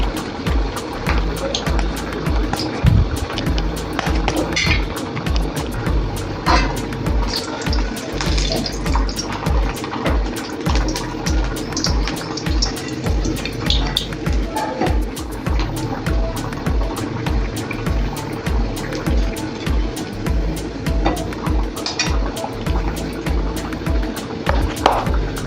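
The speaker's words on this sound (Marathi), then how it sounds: "आता मी सोडून देते तेलामध्ये एक वडा" Sabudana vada sizzles in hot oil on a low gas flame, a steady crackling fry that runs close and even throughout, with faint bubbling pops.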